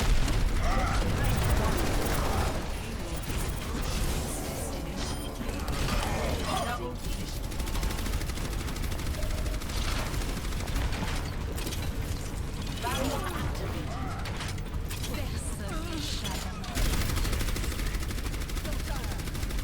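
Rapid, sustained automatic gunfire sprays throughout an Overwatch match, a dense rattle with bursts that swell and fade, while a person talks over it.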